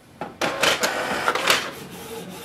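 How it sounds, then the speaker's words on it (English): A Canon TS3750i inkjet printer runs a print job close up, giving a clack as the paper feeds, then a quick series of mechanical whirs and shuttling clicks that ease into a softer hum. "You can see the printer is quick in its printing."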